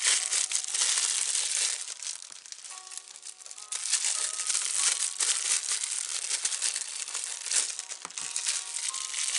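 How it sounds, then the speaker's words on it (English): Plastic packaging pulled off and crumpled during an unboxing: continuous close, loud crinkling and crushing with a few brief tearing moments, no speech. "Let me get rid of all of the plastic"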